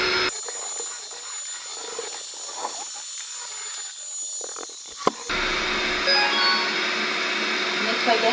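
An Ecovacs Winbot W2 OMNI window-cleaning robot runs in noise-reduction mode, giving a steady, close, whirring motor drone. The tone and texture shift partway through.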